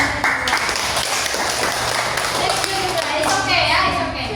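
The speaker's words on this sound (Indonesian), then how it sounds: "Tepuk tangan." Students in a classroom clap their hands together in a dense, steady burst of applause lasting a few seconds, close and fairly loud, with children's voices mixed in.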